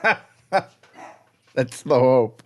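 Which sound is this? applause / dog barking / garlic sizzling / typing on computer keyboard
dog barking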